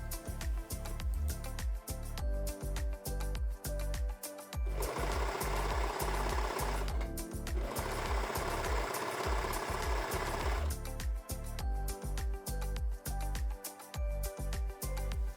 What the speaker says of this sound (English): Then stretch to fit the rest of the binding to the armhole and sew it in place.